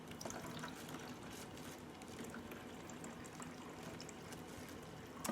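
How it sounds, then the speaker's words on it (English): Vinegar poured into water, a steady hissy liquid pour and trickle running continuously at moderate level with no talk. "I am going to add some vinegar to my water."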